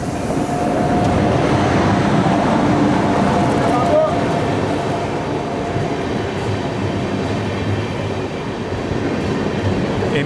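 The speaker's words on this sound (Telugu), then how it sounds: "మన పక్క ట్రాక్ నుండి ఇంకో ట్రైన్ వస్తుంది, అదేమి ఎక్స్ప్రెస్ చూద్దాం" An express train hauled by a WAP-7 locomotive rolls past on the adjacent track, a steady loud roar of wheels and rail noise heard from aboard another train, continuous throughout.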